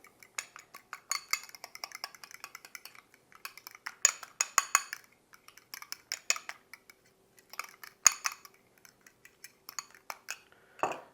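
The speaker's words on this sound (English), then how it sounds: "we're simply going to stir this up to incorporate" Burger mixture of ground venison stirred in a bowl with a utensil, giving quick, irregular clinks and scrapes against the bowl in bursts, close and moderately loud, with no talking.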